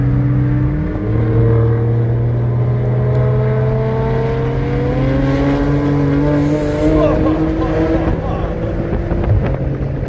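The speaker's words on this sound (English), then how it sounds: "Mustang's gonna pass you, watch out." A Ford Mustang accelerates past on a race track: a loud, sustained engine drone whose pitch climbs steadily, mixed with heavy wind rush from a moving car.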